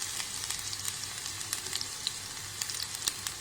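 Onions frying in hot oil with mustard seeds, a close, steady bright sizzle with scattered small pops and crackles spluttering throughout, without any voices.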